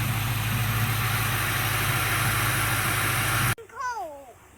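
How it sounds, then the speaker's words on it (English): A Ford Mustang engine idles while warming up, a steady close rumble for several seconds before it cuts off abruptly and a voice is heard. "let the engine heat up a little bit and let that thermostat open"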